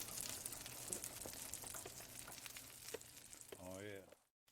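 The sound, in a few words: bacon sizzling while frying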